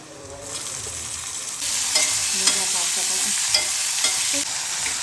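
Potatoes for poha stir-fry in a hot pan, a steady sizzling hiss that grows louder partway through, punctuated by several distinct spatula scrapes and taps, with no voices.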